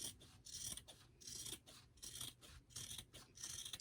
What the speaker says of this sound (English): Just trim around the whole perimeter of your project.